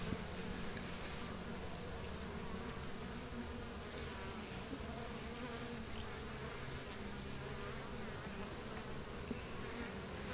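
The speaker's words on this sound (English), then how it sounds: "So there are bees" Many bees hum steadily around a frame from an open horizontal hive during an inspection, a continuous close drone with no break or voices.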